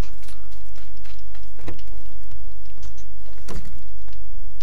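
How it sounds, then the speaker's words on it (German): A door shutting inside a three-storey building in the shooter game PUBG, heard as a couple of short, sharp knocks over a steady low hum, with no voices. "Mach aber auch die Tür zu"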